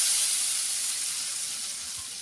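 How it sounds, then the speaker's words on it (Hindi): A tadka of fried onion, cumin and whole red chillies sizzles loudly as it is poured over dal mash, a dense, bright hiss that fades slowly, with no voices. "अब ये देखें हम इसके ऊपर ये तड़का लगा रहे हैं"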